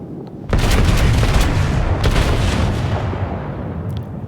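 Main guns of the Tier 7 US Navy battleship Colorado fire in World of Warships: a single loud, deep booming salvo that rumbles on for several seconds and slowly decays.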